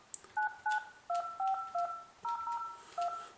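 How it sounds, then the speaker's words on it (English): Touch-tone keypad dialing a mobile number on an office desk phone: eleven crisp dual-tone beeps in quick, slightly uneven bursts, close and clear, with no talking. "I'm now going to dial my mobile number."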